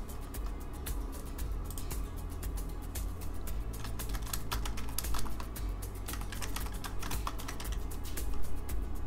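Rapid continuous typing on a computer keyboard, dense key clicks close up over a low background hum, with no talk.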